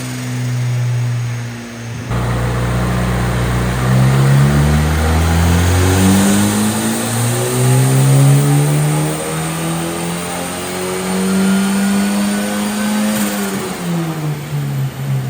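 A Volvo B230 four-cylinder engine revs hard on a dynamometer, rising in a long sustained sweep toward high rpm with a brief dip early on, loud and close with no talking.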